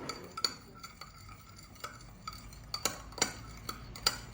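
A utensil clinks against a bowl while a water and soy sauce mixture is stirred, giving irregular light taps and scrapes spaced through the stretch, fairly close and quiet with no talk.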